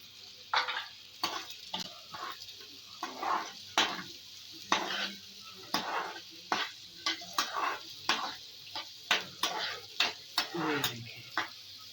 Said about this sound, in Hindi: और साथ ही एक प्याज डालते हैं, बिस्मिल्लाह। इसको हम थोड़ा सा हल्का सा बस भूनना है, सॉफ्ट करना है।